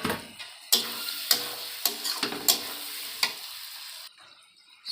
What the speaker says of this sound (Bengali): এবার টমেটো কুচানোগুলো দিয়ে দেবো